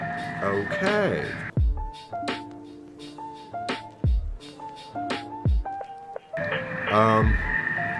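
A Daopunk Rebel Sabers lightsaber gives out electronic hums, tonal beeps and several sharp swing or clash bursts in an uneven sequence. The sound is moderately loud and close, and stretches of louder, busier sound open and close the passage.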